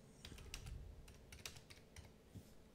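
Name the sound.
typing on a computer keyboard near the microphone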